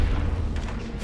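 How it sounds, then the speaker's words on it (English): A deep, rumbling explosion from the Mass Effect video game, a low boom that fills the whole short moment without a sharp onset, heard alone without talk. "It exploded."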